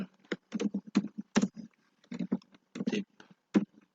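Fingers typing on a computer keyboard, close and clear, in quick irregular clusters of keystrokes separated by brief pauses, with no voice.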